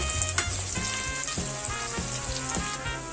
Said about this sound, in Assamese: পিঁয়াজখিনি ৰঙচুৱা হোৱালৈকে মই ভাজি ল'ম।